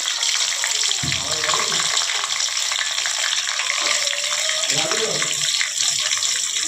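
Chopped onions hit hot oil in a frying pan: a loud, steady sizzle and hiss throughout, with a couple of soft thuds as they land, and a voice speaks faintly beneath it.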